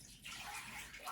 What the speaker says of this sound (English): I'm just changing out my water because I forgot to do that.